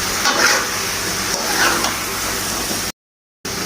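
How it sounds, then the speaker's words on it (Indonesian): Potatoes with chicken liver and gizzard stir-fried in balado spice paste, giving a steady close sizzle with scraping stirs, then a brief cut to silence before the frying resumes. "Aku masak dulu sampai 2 menit ya, biar bumbunya agak meresap ke dalam kentang dan juga hati ampelannya"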